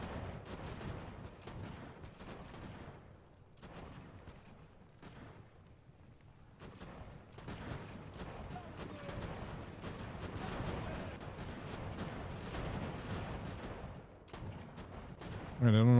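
Musket and cannon fire from a battle in Ultimate General: American Revolution forms a steady, dense din of shots and booms that dips briefly before swelling again. Faint talk may sit under it.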